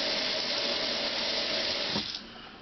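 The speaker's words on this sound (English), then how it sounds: "Now I gotta put water in the bottom of the pan" Water runs from a tap into the bottom of a baking pan of large squash pieces, a steady close rush that cuts off near the end and leaves a quiet tail.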